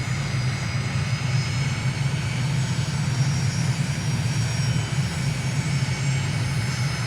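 In a flight game over Ho Chi Minh City, an aircraft engine drones steadily and loudly, a constant low roar with a faint whine above it that holds without change.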